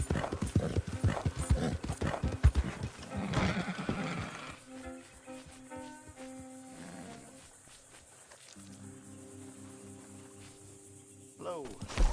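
Horse hooves clip-clop in a steady, loud rhythm in the Red Dead Redemption 2 game, followed by a horse's whinny and neighing over a quieter game background.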